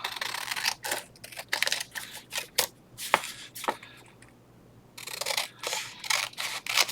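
Scissors snipping a leftover paper scrap for a craft card: a run of short crisp cuts, close and fairly loud, then a brief pause and more quick snips.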